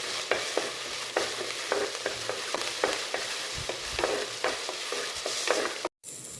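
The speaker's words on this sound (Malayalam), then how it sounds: "ആവശ്യത്തിന് വേപ്പില ചേർത്ത് കൊടുക്കാം. നന്നായി ഇളക്കി യോജിപ്പിക്കാം." Curry leaves being stirred into fish curry masala in a pan, with steady close sizzling frying and repeated scraping strokes of a spoon against the pan, and a brief dropout near the end.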